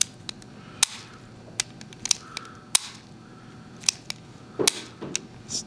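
Sharp metallic clicks of a double-action revolver trigger and freewheeling cylinder, an old Allen handgun with loose lock-up, sounding as a quick irregular series of close, crisp snaps over a quiet room.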